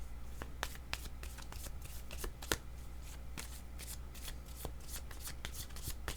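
A deck of tarot cards being shuffled by hand nearby, crisp riffling snaps and flicks repeating in an uneven rhythm, moderately quiet with no talking.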